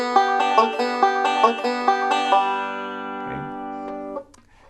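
A plucked banjo strums a few quick notes, then a string slides up in pitch too quickly and rings out, fading into quiet.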